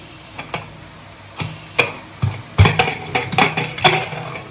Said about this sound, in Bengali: এবার আমি কুকারের ঢাকনাটা খুলে দেখে নিচ্ছি যে মটরগুলো ঠিকঠাক মতো সেদ্ধ হয়েছে কিনা।